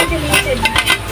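Ground meat for sisig is stirred in a hot pan, a steady sizzle broken by scraping strokes and light clinks of the utensil against the metal, close and fairly loud, with faint voices in the background.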